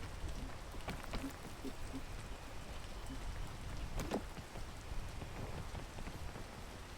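Steady rain patters down continuously on a mountain in the video game PEAK, with a few louder drops and taps standing out against the even hiss.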